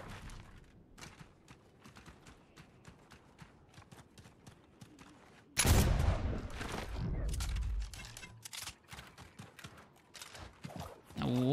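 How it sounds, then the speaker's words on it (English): A flintlock pistol fires in Fortnite Zero Build: a sharp, loud shot bursts in after quiet footsteps, followed by dense gunfire and bangs. "Love me a flintlock."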